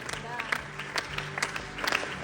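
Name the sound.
applause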